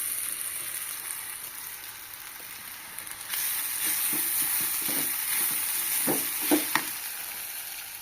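Soaked sabudana (sago) sizzles softly in a pan over low heat for upma, a steady frying hiss broken by a few close scraping stirs of a spoon.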